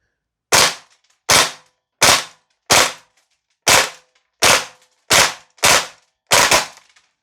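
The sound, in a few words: VFC Umarex HK UMP .45 gas blowback airsoft rifle firing 2-round bursts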